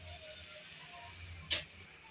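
Beef and lentil koftas fry and brown in a pan with a soft, steady sizzle, broken once by a brief, sharper crackling burst.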